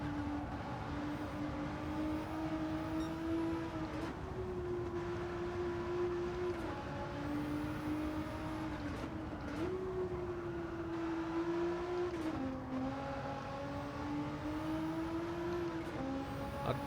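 A race car with an engine-swapped Alpine A110 howls at full throttle around Tokyo Expressway in Gran Turismo 7, holding a steady, sustained drone that shifts pitch several times as gears change, loud and continuous with no talking.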